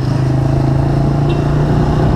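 Yamaha Fazer 250 set up as a chopper, ridden on the road: a close, steady low engine drone with a rough pulsing rumble, loud and continuous, no talking.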